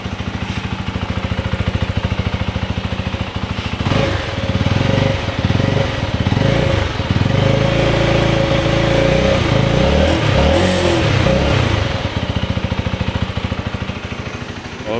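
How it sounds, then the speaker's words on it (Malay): Zontes 310T motorcycle from 2019 idling with a steady, close exhaust putter, then revving up from about four seconds and holding loud engine roar before settling back to idle near the end. "kita dengar dia punya exhaust"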